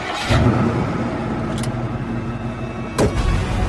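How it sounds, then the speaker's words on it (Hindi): A car engine turning over as the key is turned, a short cranking burst followed by a rough idle, then a second sharp surge, close and fairly loud with no talking. "गाड़ी स्टार्ट करने को चाबी घुमाई तो कार स्टार्ट होने की आवाज के साथ ही"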